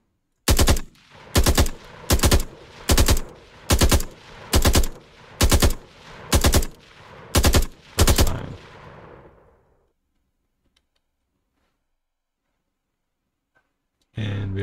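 Rapid bursts of gunfire from a third-person shooter video game, about ten evenly spaced loud shots over eight seconds, each ringing out with a short tail that fades into near silence before another sound cuts in at the end.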